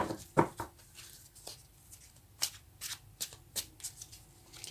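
Tarot cards are shuffled by hand, close and quiet, in a series of soft riffling bursts and flicks with brief pauses between them.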